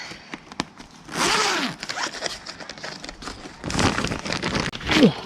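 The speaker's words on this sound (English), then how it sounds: "If I have a look at the plastic grow house here, I'll just open it up." A plastic grow house in a garden is unzipped: several long rasping zipper pulls with crinkling plastic between them, close and fairly loud, no speech heard.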